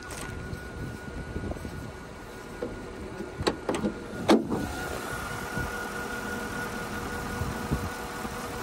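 A Mercedes-Benz CLS 550 AMG engine idling as it warms up, a steady low rumble with a faint whine, broken by a few sharp clicks and knocks near the middle.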